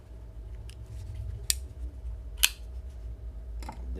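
Microtech Marfione/Strider D.O.C. flipper knife with black G-10 handle scales flicked open twice on a tabletop, each a sharp, hollow click about a second apart, then a softer click near the end against a steady low hum.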